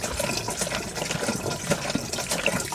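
Water pours from jugs into a camper van's water tank as a steady, close gurgling stream with small splashes, fairly quiet and without talk.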